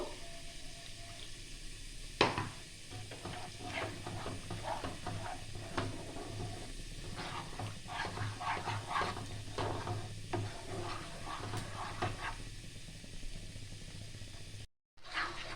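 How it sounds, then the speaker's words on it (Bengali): Spice paste for butter chicken frying in a pan gives a steady close sizzle, broken by frequent scraping stirs and clatters of a utensil against the pan. "এই পেস্টটা এবার আমি একটু ভালো করে কষিয়ে নেব 2 থেকে 4 মিনিট"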